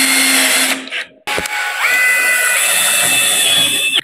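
A power drill drives a screw into an aluminium door hinge, a loud, close whirring with a steady pitch, broken by a brief stop before it spins up again and runs to the end.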